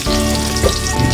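Onion frying in a hot pan for sinigang, a dense steady sizzle with faint stirring scrapes, loud and close throughout.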